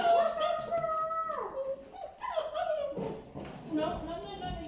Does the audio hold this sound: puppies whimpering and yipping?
yes